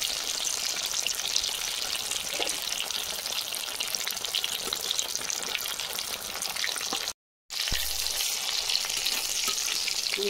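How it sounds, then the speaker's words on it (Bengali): Ash gourd pieces coated in gram flour batter fry with shrimp in hot oil, a steady close, dense sizzle running without pause before a brief drop-out near the end, then resuming. "চিংড়ি মাছ দিয়ে চাল কুমড়ো ফ্রাই হয়ে গেছে"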